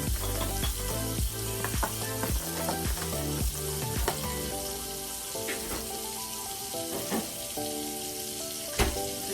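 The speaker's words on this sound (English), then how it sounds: "So I'm gonna put 2 pieces of butter in here. We're gonna make that melt a little bit." Salted butter melts and sizzles in a hot pan with a steady crackling hiss, broken by frequent sharp clinks and scrapes of stirring close by.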